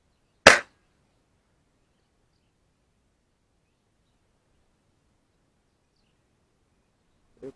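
An air rifle fitted with a scope fires a pellet at a target outdoors. One sharp, short crack is followed by long silence and then a faint, dull thud.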